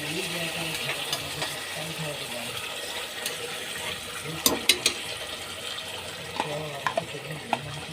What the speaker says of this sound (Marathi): त्या गरम तेलामध्ये आपण त्याला फ्राय करत आहोत